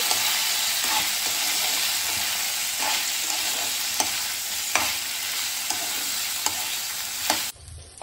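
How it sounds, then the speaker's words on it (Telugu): Ivy gourds frying in a pan, a continuous loud sizzle with regular scraping strokes of a spatula stirring them, the sizzle dropping away abruptly just before the end. "దొండకాయలు వేగాయి. ఇలా వేయించుకోవాలండి."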